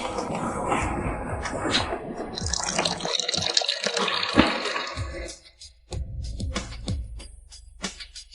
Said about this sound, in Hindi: ठंडे पानी से धो लो